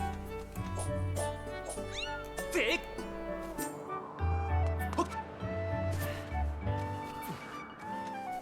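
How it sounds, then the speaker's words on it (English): A cat meows several times in the video game Zelda: Skyward Sword HD, with rising and falling calls near the middle. The meows sit over steady game music while a person talks throughout. "Anyways, here's the cat."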